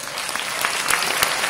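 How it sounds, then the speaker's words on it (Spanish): A crowd at a PortAventura Christmas show gives a short, lively round of applause, loud and continuous, with scattered claps standing out. "¡Un aplauso fuerte!"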